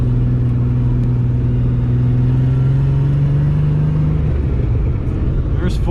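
A Ford Bronco's engine drones steadily off road, its mid-range note climbing slowly under load as it works up through the gears, then breaking into rougher rumble near the end; close and loud throughout.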